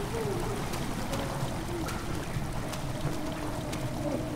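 Water rushes and pours steadily into an enclosed room in a video game, a dense, continuous flowing wash with faint trickling detail that stays at a constant level throughout.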